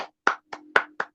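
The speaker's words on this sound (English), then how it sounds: "Clap." Hands clap five times in a short, evenly spaced sequence. The claps are close and crisp, with a faint hum running underneath.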